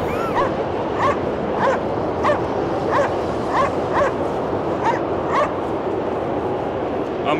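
Dog in the icy Cryostasis game barking in a quick, steady series of about a dozen sharp, yappy barks with slight whimpering tones, fairly close over a constant windy background rumble.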